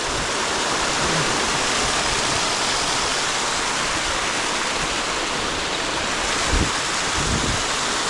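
Meltwater stream from a glacier in Arctic Norway, a loud, constant broadband rush of flowing water filling the scene close to the microphone, with a brief thump near the end.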